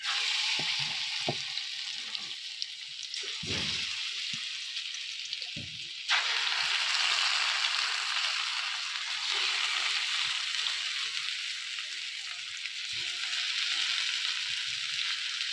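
Pieces of large coral fish (barramundi) sizzle and crackle steadily in hot oil in a wok, a dense, loud frying hiss with small pops and stirring bumps throughout, no voices.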